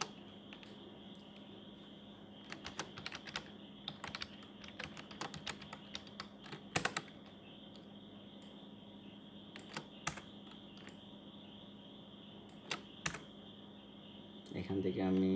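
Someone types on a computer keyboard in scattered, irregular bursts of light keystrokes, quiet and close over a steady low hum.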